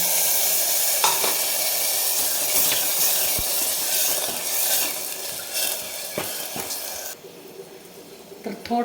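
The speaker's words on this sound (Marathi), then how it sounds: "आणि छान परतून घ्यायचं याला" Moong husk curry masala sautéed in a pan for a traditional village-style amti, giving a close, steady sizzle and hiss with occasional stirring scrapes throughout.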